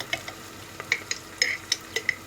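Tomato paste goes into a sizzling home-kitchen pan and is stirred. A soft fry hisses underneath while a spoon makes close, sharp metallic clinks and scrapes against the pan several times, with no talking.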